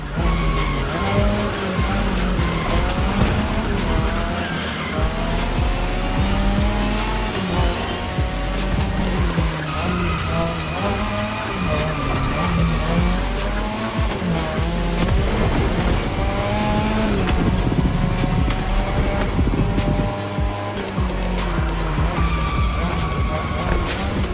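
A Mazda RX-7 races hard in The Crew Motorfest, its engine roaring steadily up and down through gears while tires squeal and skid repeatedly through corners, with a voice talking over the driving.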